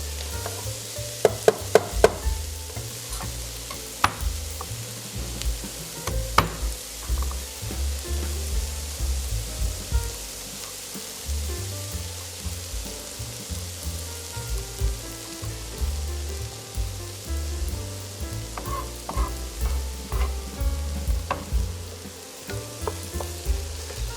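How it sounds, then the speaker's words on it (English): Onions sweating in a pan for minestrone, a steady close sizzle with a spoon stirring and a few sharp clicks near the start, no talking. "While we sweat down these onions, we'll smash and mince 2 cloves of garlic."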